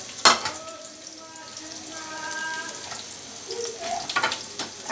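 Chopped garlic and ginger fry in oil as they are stirred, making a soft, low sizzle after a sharp clank at the start, with faint tonal hums and light scraping toward the end.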